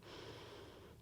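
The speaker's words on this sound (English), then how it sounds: "Arms come out. Big breath in." A single deep breath drawn in during an energizing power yoga flow, a soft airy rush that lasts about a second, close but quiet, with no talking.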